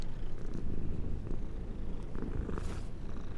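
A pettable cat in the video game Mortal Shell purrs close and loud in a steady, rumbling low rhythm, with a brief higher rustle near the end and no talking.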